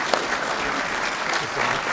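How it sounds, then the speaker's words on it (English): Audience applause at a community event, steady clapping filling the room for about two seconds, fairly loud and continuous with no voices over it. "Alan Stewart, please give him a round of applause."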